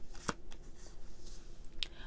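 Tarot cards are handled and shuffled during a reading, giving a couple of brief crisp card riffles over a quiet room background, with a soft murmur in between.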